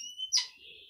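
Caged goldfinch, canary and linnet meeting for the first time, giving a single bright, sharp chirp up close in a quiet room.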